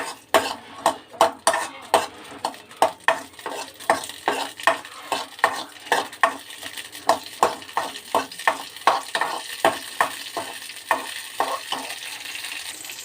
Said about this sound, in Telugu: కొద్దిగా ఆయిల్ వేసుకొని స్టవ్ వెలిగించుకొని కొద్దిగా ఆయిల్ వేసుకొని వేపుకోవాలండి పచ్చిమిర్చిని